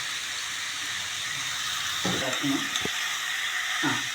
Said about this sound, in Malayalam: ഇപ്പം ഞാൻ ഇങ്ങനെ ഇളക്കുകയാണ്